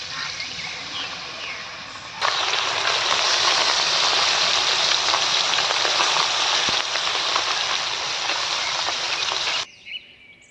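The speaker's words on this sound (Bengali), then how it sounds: "আমাদের তেল গরম হয়ে গেছে এবার মাছগুলো দিয়ে দেবো" Small mourola fish dropped into hot mustard oil in a wok burst into a loud, steady sizzle that holds for several seconds after a quieter hiss, then cuts off abruptly.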